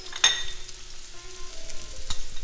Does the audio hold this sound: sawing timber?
no